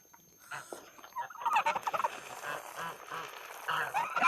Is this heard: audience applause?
no